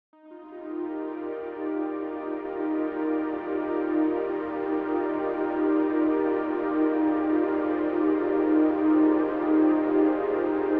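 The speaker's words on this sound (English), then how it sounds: "putting that through Butterfly Effect completely changed the sound into a more pad-like sound like this." Synth keys run through a Butterfly Effect reverb become a soft pad that swells in gently and holds as a smeared, reverberant chord wash, steady and evenly sustained throughout with no speech.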